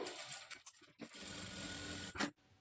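A sewing machine stitches the edge of a blouse cross belt in close, steady whirring runs, pausing briefly between bursts before stopping.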